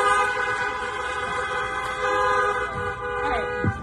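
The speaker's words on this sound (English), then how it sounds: "Honk if you can hear me." Car horns at an outdoor drive-in movie premiere in Los Angeles blare together in sustained, overlapping honks, with a few sharper toots near the end.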